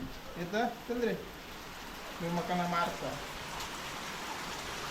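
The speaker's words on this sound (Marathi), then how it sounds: "पण पाऊस येलो" Rain falling in the Konkan countryside, a steady soft hiss of drops in the background while people talk briefly over it.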